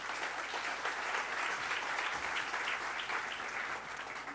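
Steady applause from a conference audience welcoming a guest onstage at a Randstad talk on work, dense and continuous throughout at a moderate distance, easing slightly at the end.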